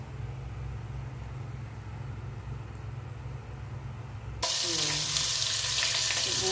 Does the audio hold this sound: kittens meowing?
no